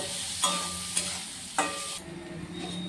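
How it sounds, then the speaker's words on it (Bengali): Onion and garlic stir-fried in oil for crispy aubergine fritters, three sharp scrapes of a spatula against the pan over a constant close sizzle, with no voices. "পেঁয়াজ আর রসুনটাকে দেখো ঠিক এইভাবে আমরা সমস্তটা তেলের সাথে ভালো করে কষিয়ে নিচ্ছি"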